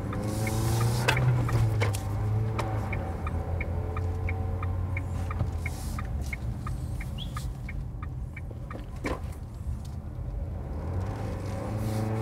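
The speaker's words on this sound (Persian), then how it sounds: "خیلی صدای موتور داخل کابین میاد" Engine noise fills the cabin of a Dacia Duster while driving: a steady low drone with a faint, regular ticking above it, fairly quiet and unbroken, with no one speaking.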